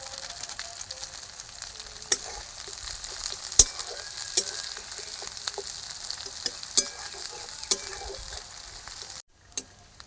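Potol (pointed gourd) stir-fried with turmeric and chilli powder in a pan for potol posto, a steady sizzle with occasional sharp clicks and scrapes of the spatula, then a brief cut near the end.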